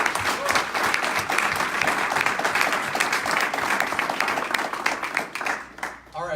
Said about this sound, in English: let's give these guys a quick round of applause